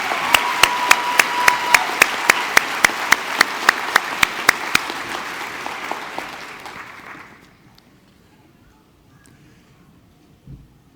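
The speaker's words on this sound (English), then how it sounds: "I think that Stacy Angelo deserves a round of applause for getting them all right." Audience applause at a graduation ceremony, with dense clapping and a few sharp close claps standing out, gradually fading out after about seven seconds into near silence.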